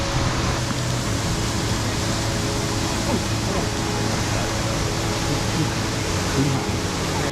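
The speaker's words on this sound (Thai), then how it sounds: "เป็นอีกน้ำตกหนึ่งที่ น่าเล่นมาก ๆ" Waterfall at a Thai swimming spot, a loud continuous rushing roar of falling water that stays steady and broad throughout, with no clear voices on top.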